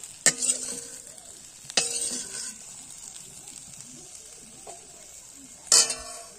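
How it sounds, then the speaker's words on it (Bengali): Pointed gourd frying in oil in a pan, a steady close sizzle with three sharp clattering stirs as the pieces are turned, no one speaking. "পটলগুলো লাল লাল করে ভাজা হয়ে গেছে, এবার আমি তুলে নিচ্ছি"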